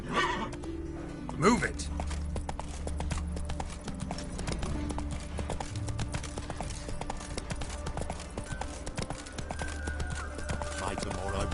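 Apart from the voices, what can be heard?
horse Roach neighing and galloping in PS4 video game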